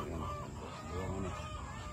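Farmyard chickens cluck in short, soft bursts around a rural Philippine homestead where ducks and pigs are also kept, faint and somewhat distant under steady outdoor ambience.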